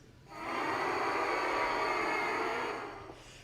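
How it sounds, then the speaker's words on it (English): A fifth-grade school band's trumpet section buzzes together on their mouthpieces, a brief sustained, reedy buzzing swell lasting about three seconds, moderately loud and alone. "the trumpets are going to buzz on their mouthpiece"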